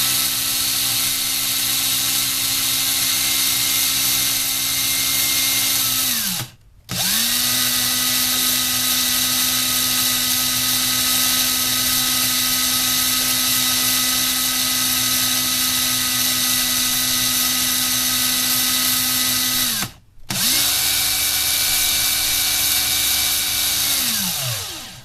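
A rotary tool spins at high speed on a cloth, buffing the printing off a Lego piece. Its steady, loud whine runs on and briefly drops out twice as the head stops and spins back up.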